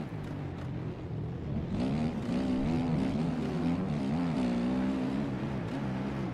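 In the MX Bikes video game, a dirt bike engine sits on the rev limiter in first gear. It makes a steady, buzzing, close drone that wavers slightly in pitch as it bounces against the limiter.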